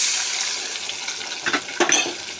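Dissolved masala paste hits hot fish oil with fried potatoes in a pan for Katla fish curry. A steady hiss rises into two sharp, loud bursts of sizzling.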